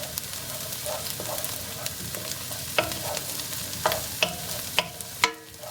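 Onions browning in a pan give a steady close sizzle, broken by several sharp clicks and scrapes of a utensil stirring against the pan, with no voices.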